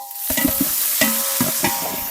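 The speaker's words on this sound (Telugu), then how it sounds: "ఇప్పుడు మనం తగినంత ఉప్పు, పసుపు, అల్లం వెల్లుల్లి పేస్టు, పుదీనా, కొత్తిమీర వేసి ఆయిల్లో వేపుకోవాలి." Onions, spices, ginger garlic paste, mint and coriander fry in oil at an outdoor country-chicken cookout, a soft steady sizzle broken by several scraping stirs of a ladle in the pan.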